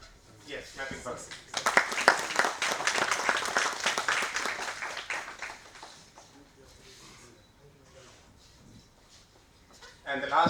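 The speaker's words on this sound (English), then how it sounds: "Yes, clapping for him." An audience at a faculty development program claps for an award recipient in a sustained burst lasting several seconds, rising quickly and fading out, with voices talking around it.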